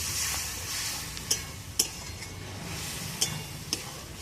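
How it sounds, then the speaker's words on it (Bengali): Chicken pieces sautéing with a little water in a kadai for a green-pea ghugni, a steady sizzle broken by a few sharp spoon scrapes and clinks against the pan, close and continuous. "অল্প জল দিয়ে বেশ সুন্দর করে মাংসটা কষে দিচ্ছি"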